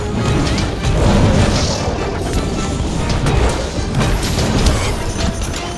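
Firecracker explosions crackle and bang in the video game Monster Hunter World during a Great Jagras hunt, a loud dense barrage of crashes and pops packed among continuous combat noise.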